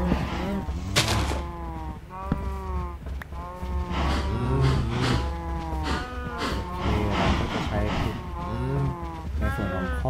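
Cows in the video game Minecraft moo again and again in a loud, continuous series of drawn-out calls, with what may be faint voices underneath.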